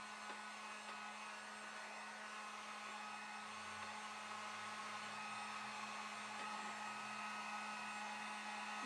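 A hair dryer blows steadily on a picture frame freshly coated with Fusion Mineral Paint in Winchester, a constant close whine and rush of air that holds unbroken throughout with no speech.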